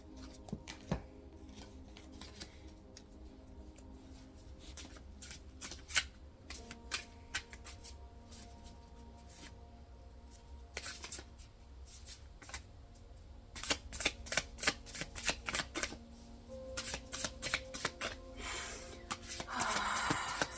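Tarot cards being shuffled close by, soft riffling and tapping in irregular bursts that grow busier and louder toward the end.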